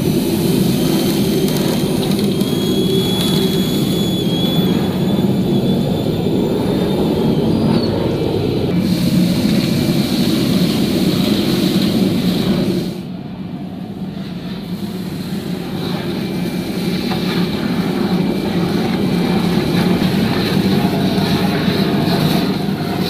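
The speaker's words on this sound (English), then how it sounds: "how to extract material from under conveyor belts or machines with a smaller hose, here a DN60 millimeter suction hose" An industrial vacuum pulls material through a narrow DN60 suction hose from under conveyor belts and machines. It makes a loud, steady rushing roar that dips briefly partway through and then resumes, with no talking.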